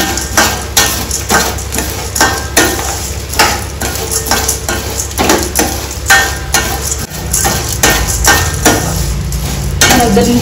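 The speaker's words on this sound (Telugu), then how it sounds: "దీని వేడికే మళ్ళీ అది ధనియాలు కూడా వేగుతాయి" Coriander seeds and curry leaves roasting in a hot pan, stirred with a utensil that scrapes and taps the metal in a busy repeated rhythm over a steady dry sizzle, loud and close, with no talk.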